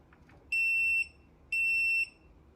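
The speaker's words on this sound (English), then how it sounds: "it'll give you that single beep when it manually shuts off" Two loud, steady electronic beeps from a Viofo BP100 dashcam battery pack, each about half a second long, separated by a short pause, against a quiet background.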